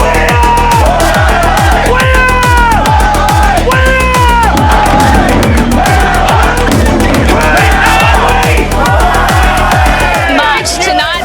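A loud, packed crowd of Port Adelaide supporters at a pre-game function for an AFL final, yelling, whooping and chanting together in rhythmic bursts, the dense roar of voices sustained close and unbroken throughout.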